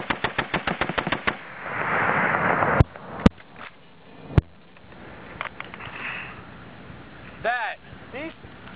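A .50 caliber machine gun fires a short rapid burst of loud, evenly spaced shots, then a few single heavy reports follow with echo and ambient noise between them. A voice is briefly heard nearby.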